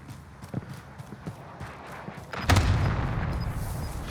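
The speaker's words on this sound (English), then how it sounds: "Mortar strikes have been fucking me up." Mortar strike bombing in Call of Duty: Warzone lands with a single heavy, loud boom after a few faint, scattered thuds, leaving a rumbling low tail.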